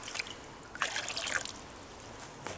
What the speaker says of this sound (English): I'm just going to add a litre of water on top